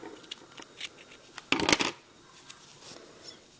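Scissors snip through crochet yarn in a quiet room, with a brief cluster of close, crisp cutting sounds in the middle amid faint handling rustles.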